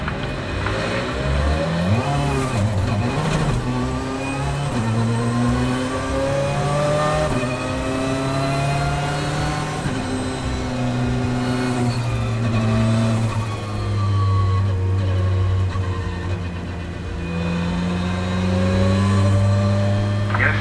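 A loud Ferrari 488 GT3 Evo race car engine revs and drones through repeated gear shifts on track, pitch rising and falling steadily, close and continuous with no voices.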